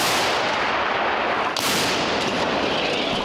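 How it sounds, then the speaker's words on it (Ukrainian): A loud, sustained blast roar fills the air, with a second sharp boom midway, heavy and broadband like big gun fire nearby, from an artillery gun firing on a frontline position. "Буде щонайменше три постріли, потім коректура."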